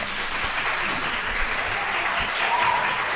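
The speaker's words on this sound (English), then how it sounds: "Let's hold the applause." Audience applause fills a public meeting, steady dense clapping from many people in a hall, continuous and fairly loud with faint voices mixed in.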